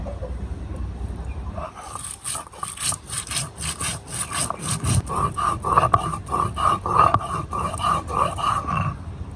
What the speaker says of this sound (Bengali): প্রথমে আমি জিরে, ধনে একসঙ্গে বেটে নেব।